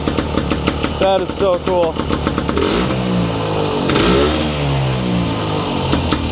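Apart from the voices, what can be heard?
1946 Husqvarna Model 24 motorcycle, 118cc two-stroke engine running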